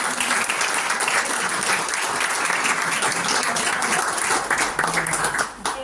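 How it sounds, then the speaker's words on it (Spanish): Sustained audience applause fills an award ceremony presenting the Dr. Alejandro Korn recognition prize, dense steady clapping from a crowd that holds loud throughout and eases slightly near the end. "Un aplauso."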